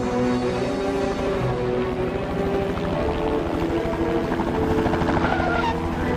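Cartoon helicopter rotor blades whirring in a steady, rapid chop that sits up close and loud, layered with a background music score throughout.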